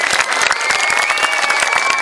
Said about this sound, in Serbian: Ajmo sad jedan veliki aplauz za mamu i za Niš da se čuje čak do Niš.